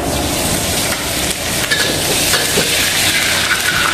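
Hot oil sizzles steadily in a wok, a close, continuous hiss with faint crackles scattered throughout.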